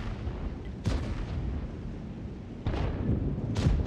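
Artillery shells fired in World of Tanks, a few heavy booming shots spaced a second or more apart over a low rumbling battlefield background.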